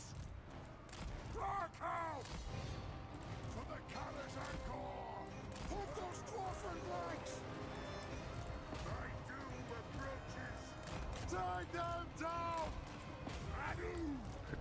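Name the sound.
dwarf artillery fire in a Warhammer video game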